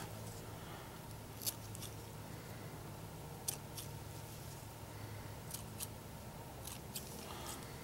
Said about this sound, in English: Just trim those off, trim this bottom fin off nice and smooth